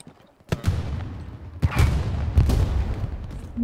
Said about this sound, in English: Coming in to the north, artillery with possible 5 rounds